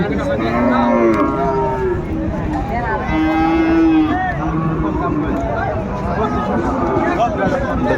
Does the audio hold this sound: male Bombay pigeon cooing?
no